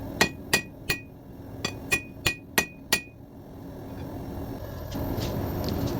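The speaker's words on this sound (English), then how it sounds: "forging out the reverse taper that will become the snout" Blacksmith's hammer striking hot steel on an anvil while forging a reverse taper for a dragon head's snout, about nine sharp ringing blows in an uneven rhythm over three seconds, then quieter workshop noise.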